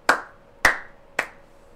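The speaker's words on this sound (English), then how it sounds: "Round of applause." Three sharp, evenly spaced hand claps ring out alone, each loud and crisp with a short decay, slow and deliberate.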